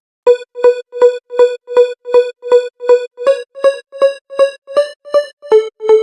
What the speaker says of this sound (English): the third layer sounds something like this